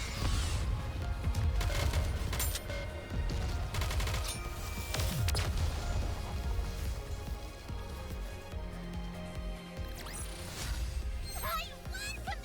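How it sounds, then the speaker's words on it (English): Bombardment of gunfire and booms in the Goddess of Victory: Nikke video game, with repeated loud bursts and crashes over a steady music bed and occasional character voice lines. "Target locked. Commence bombardment!"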